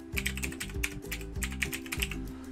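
Rapid typing on a computer keyboard, a quick run of clicks and clacks at close range, with a low tonal hum underneath and no talking.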